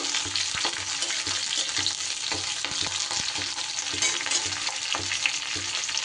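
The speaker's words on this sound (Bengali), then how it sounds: "ক্যাপসিকামটা দিয়েও একটু নাড়াচাড়া করে নেব।" Capsicum and onion frying in a pan for potato manchurian, a continuous loud sizzle with regular scraping and clinking of a spatula stirring the vegetables, no talk.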